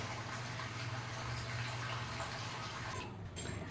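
Fried tempering poured into lentil dal cooked with taro gives a steady, soft hissing and liquid rush, low and continuous, easing slightly near the end.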